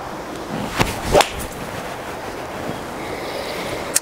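A golf shot with a graphite-shafted, stiff-flex 2 iron: a single sharp strike near the start, followed shortly by a second brief crack, with a steady outdoor breeze beneath and no talking.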